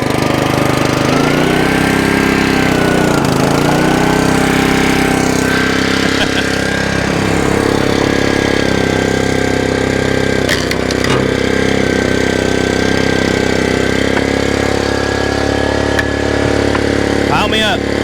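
A Honda engine at a woodyard running after being started, a loud steady motor drone with a lawn-mower-like rumble and some knocking, close by, with a few clanks over it.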